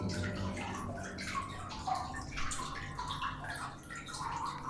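Clear spring water spills over the rim of a well inside an old Maginot Line fort, a steady close-up splashing and gurgling with soft drips and no voices.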